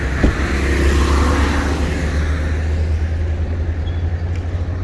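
Vehicles in a Mecca car park during a late-morning crowd of pilgrims: a steady, loud engine rumble and revving close by, with low traffic drone holding throughout and no voices.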